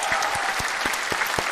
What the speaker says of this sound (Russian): ваши бурные аплодисменты